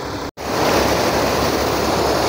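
Water pumped heavily and continuously at a reservoir site, a dense, steady roar of rushing water, loud and unbroken apart from one brief dropout near the start.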